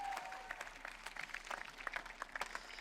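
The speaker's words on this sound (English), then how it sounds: "Can we give her one more round of applause?" Applause from the audience at the Canyon Lake State of the City event, a faint, distant patter of clapping hands spread over a few seconds in a large room.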